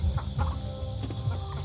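Borrowed domestic duck calling on a backyard farm, with a few short quacking bursts over a busy background of other fowl and faint high chirps, close and moderately loud, no speech.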